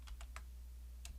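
A few soft keystrokes on a computer keyboard, three quick clicks and then one more after a pause, faint over a low steady hum.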